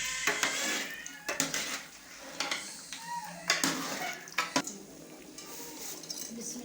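Mutton frying in a large pot as it is stirred, with repeated metallic scrapes and clanks of a spoon against the pot over a soft background sizzle, close and fairly loud in irregular bursts.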